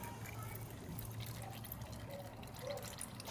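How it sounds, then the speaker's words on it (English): Motor oil drains from a Honda CBR300R/CB300F motorcycle engine in a soft, steady trickle and dribble with a faint low hum underneath, quiet and continuous throughout. "So now we've drained oil"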